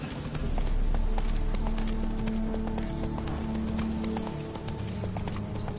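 The horse Roach gallops in The Witcher 3: Wild Hunt on PS4, with steady rhythmic hoofbeats running continuously and loud over game ambience and music.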